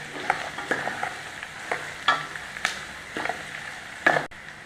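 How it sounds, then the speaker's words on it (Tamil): Onions sauté in a hot pan for crab masala, a steady close sizzle broken by repeated stirring scrapes and taps of a spoon against the pan, with no talk. "வெங்காயம் நல்லா பச்சை வாசனை போகிற வரைக்கும் நல்லா வதக்கிடலாம்."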